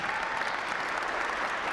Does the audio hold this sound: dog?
no